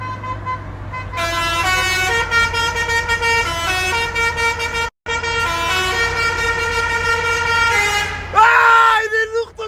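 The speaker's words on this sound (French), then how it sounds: "écoutez le klaxon du frère" A car's musical horn blares a loud, close melody of sustained notes, pausing briefly midway, then ending in a short burst of honks.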